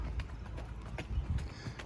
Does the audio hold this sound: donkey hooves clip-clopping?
yes